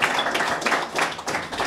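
An audience at a youth under-15 football challenge event claps in a short, even burst of applause, a close, steady patter of many hands with slight pulses in loudness.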